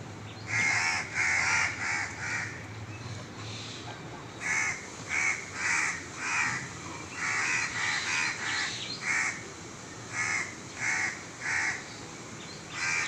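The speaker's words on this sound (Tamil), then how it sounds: "இங்கே பாருங்கள் காக்கா வந்து காரணம் இல்லாமல் கத்தாது" A crow perched on a tin sheet caws again and again in short clustered bursts, loud and close, with brief pauses between each run of calls.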